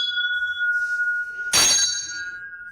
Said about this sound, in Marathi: अरे घंटी वाजवा, अरे घंटी वाजवा.